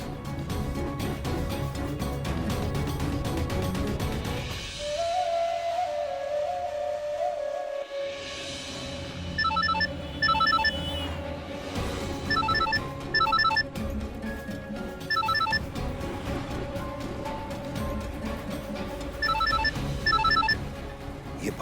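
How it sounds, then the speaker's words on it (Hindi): A telephone rings repeatedly indoors, with a series of short electronic ring bursts over a low background after a quieter opening passage. "ये बार बार शहबाज मियां हमें क्यों फोन कर रहे हैं?"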